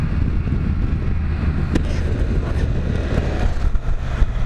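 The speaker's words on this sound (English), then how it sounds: "Look at that wind on those flags. It is stiff today." Strong, gusty wind rumbles steadily and loudly across an outdoor microphone, a constant low roar with no break.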